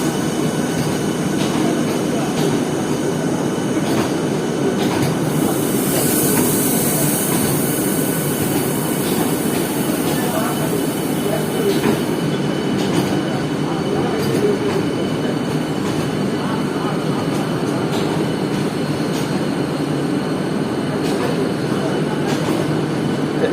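An air-conditioned local train on the Sealdah–Ranaghat line rolls along steadily, a continuous close rumble of wheels and carriage noise throughout, with a brief high squeal partway through.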